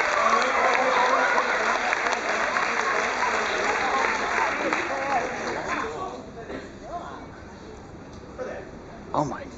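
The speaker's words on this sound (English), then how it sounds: "As this round of applause gives you a nice boost of energy" An audience applauds at a hypnotist show aboard the Carnival Splendor cruise ship: dense, steady clapping for about six seconds that then thins out to a few scattered claps.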